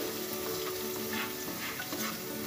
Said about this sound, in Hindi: चॉप्ड जिंजर गार्लिक और चिली, ग्रीन चिली। इसे थोड़ी सी फ्राई कर लेनी है।